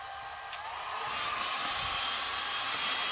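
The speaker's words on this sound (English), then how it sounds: "When you turn on your heat gun, your hair dryer, your torch or anything, don't point it directly at the thing." A heat gun set to its lowest heat blows hot air in a steady, even whoosh, held for a few seconds with no talking.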